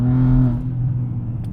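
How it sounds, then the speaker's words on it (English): BMW G80 M3 fitted with a Remus Race exhaust, its engine giving a deep, loud droning rumble at steady revs that eases slightly toward the end, heard alone without talk. "my exhaust is extremely loud"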